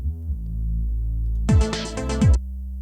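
Second synth bass channel in Ableton with saturator and bit reduction, a low droning buzzy bass tone with gritty texture, joined midway by two brief bright crunchy pitch-dropping bursts, loud and alone.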